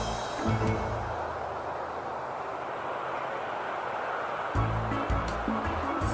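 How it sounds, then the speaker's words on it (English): Steady rushing splash of an outdoor fountain by a pool and hot tub, a continuous, fairly close wash of falling water with a low hum coming and going underneath. "there's a beautiful fountain"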